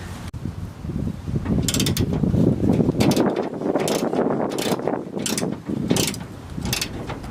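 A ratchet wrench loosening bolts under a Nissan D21 Hardbody pickup, quick clicking ratchet strokes in uneven bursts over a creaking metallic background, close and fairly loud, with no speech.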